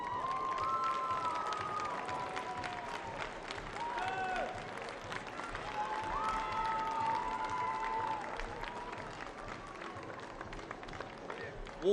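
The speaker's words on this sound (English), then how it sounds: "Warm applause from the crowd in Varna for Mariana Kiniuk" Warm applause from the crowd at a gymnastics competition in Varna, a steady wash of clapping held for the whole stretch, with a faint voice speaking over it.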